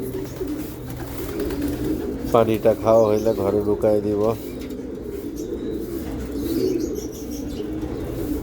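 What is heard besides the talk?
racing pigeons landing and cooing at the loft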